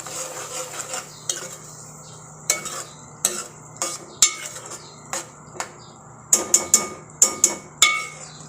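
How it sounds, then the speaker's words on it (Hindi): Yogurt stirred into bhindi masala in a metal pot, with a spoon scraping and clinking against the sides in a series of sharp, irregular knocks over a low steady hum, close and fairly loud, with no talking. "हम अच्छी तरह से मिक्स करते हैं"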